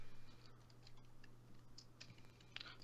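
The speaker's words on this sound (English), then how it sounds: "I have a really mechanical keyboard, like you can hear every single key." Scattered keystrokes on a mechanical keyboard, faint and uneven, clicking away in a quiet room with a steady low hum underneath.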